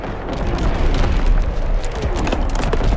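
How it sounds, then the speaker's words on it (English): Incoming enemy artillery in the World War II shooter Call of Duty: WWII, a dense continuous barrage of deep booming blasts and rumbling bursts, loud and sustained. "Incoming enemy artillery! Get to cover!"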